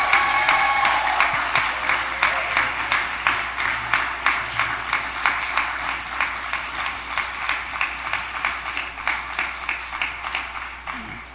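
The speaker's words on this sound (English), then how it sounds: "can we also have a round of applause for Reverend Katie?" A church congregation at a Sunday celebration service claps in slow, rhythmic unison, the steady, evenly spaced beats continuing throughout with a faint voice early on.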